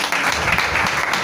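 A church congregation applauding: a brief, dense burst of many hands clapping together, steady and fairly loud throughout the short span.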